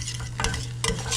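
Venison Hunan sauce is stirred in a hot pan, giving two quick scraping strokes over a steady low sizzle, close and fairly quiet.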